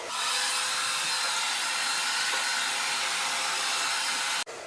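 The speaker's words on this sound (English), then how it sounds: "Now I'm going to start blow drying." A hair dryer blows a steady, loud broadband whoosh while drying hair, running continuously at close range before a short dip near the end.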